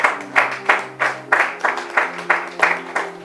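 A church congregation claps in unison during a sermon, loud and close, with steady rhythmic beats about three per second and a sustained voice or crowd murmur underneath.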